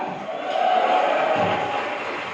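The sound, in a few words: audience applause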